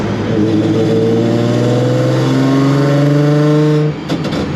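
A supercharged Nissan 350Z with a ProCharger revs loud and close, its engine note climbing in several rising sweeps with an audible whine before cutting off abruptly near the end.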